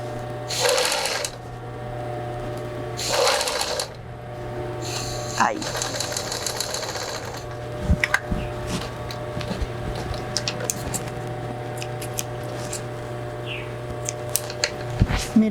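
A sewing machine stitches a French seam on a fitted sheet in short bursts of fast, rattling needle action, with pauses between runs and someone talking quietly in between.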